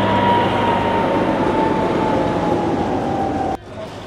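Steam train rolling along its track in Germany, a loud steady rumble with a sustained ringing tone that cuts off abruptly near the end.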